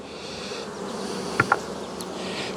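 Honeybees buzz around a nuc hive in a dense, steady drone close by, with a couple of brief louder buzzes as bees pass near.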